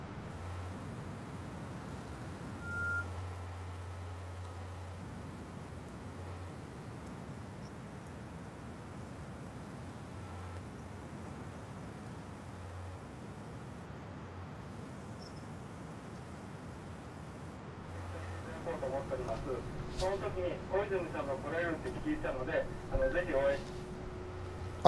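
An office fax machine receives an incoming fax: after a long stretch of low room noise and muffled voices, warbling electronic handshake tones and chirps start up near the end.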